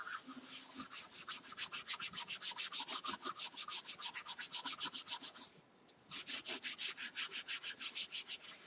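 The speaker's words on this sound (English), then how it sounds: "So we're just going to scrub off this design." A chalk design on a board is scrubbed off with a disinfectant cloth in rapid, regular back-and-forth strokes, a close, dry rubbing rhythm that pauses briefly before resuming.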